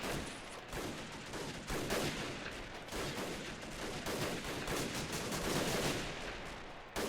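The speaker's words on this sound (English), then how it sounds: "I really want to see this gunfire again." Dense, sustained gunfire from a WW1 urban bridge-defense battle in the video game Men of War Assault Squad 2, with rapid overlapping shots and bursts rolling on for several seconds, loud and continuous with no talk.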